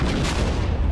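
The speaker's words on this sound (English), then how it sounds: "Bazooka." A bazooka in a Minecraft guns mod fires with a short, loud, booming blast that fills the moment.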